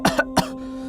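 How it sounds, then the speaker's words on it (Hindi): An elderly grandfather coughs three times, short harsh close bursts in quick succession, followed by quiet room tone. "दादाजी, आपकी खांसी बढ़ गई है।"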